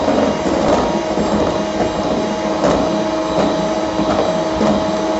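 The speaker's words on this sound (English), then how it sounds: "once you've gotten this started, you can put the speed up on the mixer" An electric mixer whips cream for ice cream cookie sandwiches, giving a steady, close, continuous motor whir with a faint rhythmic beater rattle throughout.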